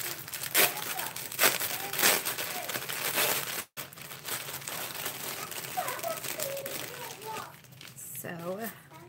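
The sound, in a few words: crinkling of yarn packaging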